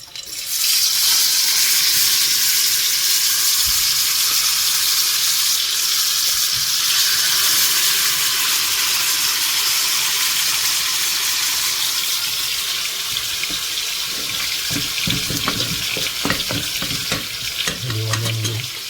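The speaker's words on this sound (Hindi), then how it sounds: "यहाँ जो तेल गरम हो चुका है, हम डालते हैं फिश।" Fish hits hot oil in a home kitchen and sizzles loudly, a continuous close frying hiss that gradually settles, with faint clinks near the end.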